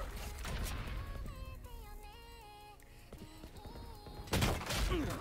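Gunfire in the tactical shooter Valorant during a spike-planted round: several sharp shots ring out over game music and mechanical effects, with a louder burst of fire near the end.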